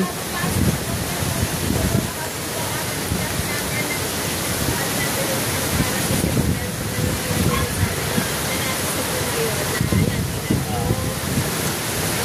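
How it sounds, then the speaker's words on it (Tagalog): Strong, steady wind roars ahead of an approaching typhoon, a dense rushing noise that sounds almost like heavy rain or a waterfall, continuous for the whole stretch with gusty low-end buffeting. "Nalakas na ang hangin."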